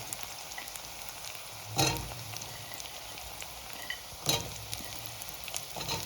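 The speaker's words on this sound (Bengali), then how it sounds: "আলু দিয়ে একটু নাড়াচাড়া করে দেবো পেঁয়াজের সাথে" Potatoes and onions fry in a pan under a steady sizzle, with two distinct stirring scrapes partway through.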